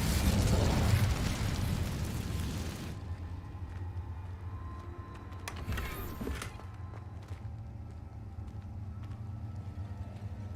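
Incendio fire spell cast in Hogwarts Legacy, a loud fiery burst with roaring noise for the first three seconds, then a quieter rumbling bed with a brief whooshing flare around six seconds.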